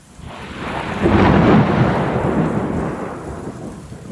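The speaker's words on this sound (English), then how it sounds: "Lightning flashed behind Virginia, brightening the words of the letter in her hands. The sound of thunder cried out shortly after." A deep, rolling clap of thunder in a thunderstorm swells to a loud peak and slowly rumbles away, with rain hissing steadily underneath and no voices.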